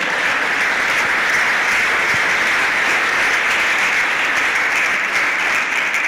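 Loud, dense applause from a church congregation during a Spanish-language sermon, a continuous wash of clapping that holds steady and close for about six seconds without any voices.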